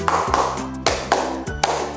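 A classroom group clapping hands together in a counted rhythm, with five sharp, loud unison claps in under two seconds, evenly spaced and close.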